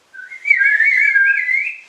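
A single sustained whistled tone, clear and close, wavering gently in pitch for under two seconds with no speech.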